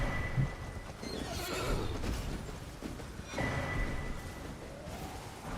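Horses in the Elden Ring video game neigh and whinny loudly over ongoing hoof clatter and game ambience, with drawn-out calls repeating across the stretch and no talk.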